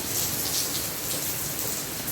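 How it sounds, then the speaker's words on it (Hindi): Heavy rain pouring down steadily during a thunderstorm, a dense continuous hiss of falling water that stays loud and even throughout, with no voices. "फिर से तेज़ हो गई बारिश।"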